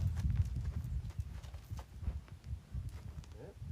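Horse hooves clip-clop close by in an uneven walking rhythm, a string of dull low thuds with a few brighter knocks as the horse moves around during preparation for its first ride.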